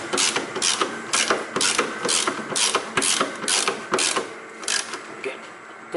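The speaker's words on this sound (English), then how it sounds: "then we fasten these bolts well, and not too much force" Ratchet wrench tightening the rear suspension bolts on a car or truck, a close run of quick metallic clicking bursts in an even back-and-forth rhythm.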